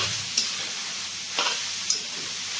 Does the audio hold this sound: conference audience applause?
no